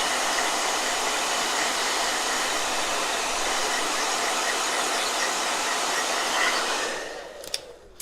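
A blow dryer runs in a steady, loud whooshing hiss that holds for several seconds before switching off, leaving a couple of small clicks.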